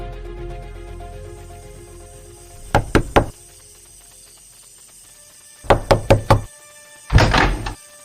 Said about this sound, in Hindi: अब बाकी था तो बस रूबी के घर का दरवाजा खटखटाना